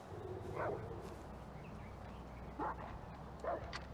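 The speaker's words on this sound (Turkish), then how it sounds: "Ha, köpek orada bak." A dog in the video game Far Cry 4 barks three times, with single yaps spaced a second or two apart over a low, steady game background.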